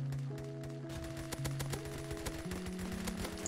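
Rapid gunfire from the mobile first-person shooter Kuboom, a run of quick repeated shots in short bursts with a steady electronic tone underneath, fairly quiet overall.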